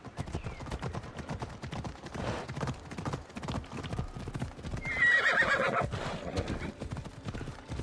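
Rhythmic hoofbeats of a galloping horse with a whinny partway through, set against a busy soundscape with music and effects in Assassin's Creed Odyssey.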